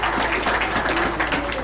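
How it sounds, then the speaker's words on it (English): An audience at a university book launch and valedictory lecture applauds steadily, a broad wash of clapping mixed with a low hum and some murmuring underneath. "A round of applause."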